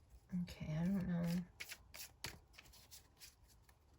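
A deck of tarot cards being shuffled, with soft riffling and rubbing bursts close by, after a person hums or speaks briefly at the start.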